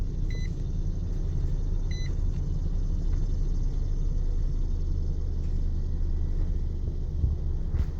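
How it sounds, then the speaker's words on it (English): A 2014 Nissan Armada engine idling steadily after starting, a low continuous rumble close by, with two short electronic chimes early on and no talk over it. "You can see the vehicle starts right up."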